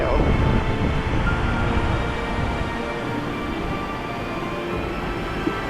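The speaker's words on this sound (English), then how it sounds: "that is the sound of the wind." A strong gale blows outdoors along the Overland Track between New Pelion Hut and Kia Ora Hut, making a loud, steady, continuous roar that fills the whole stretch without pause.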